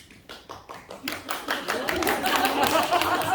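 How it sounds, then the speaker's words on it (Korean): Audience applause from a church study group gathering, starting as a few scattered claps and swelling within a second into steady, dense clapping that fills the room. "박수."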